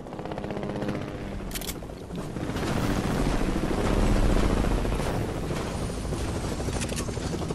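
A helicopter in an online survival shooter game, its steady rotor drone loud and continuous throughout, swelling slightly toward the middle, with game sounds layered over it.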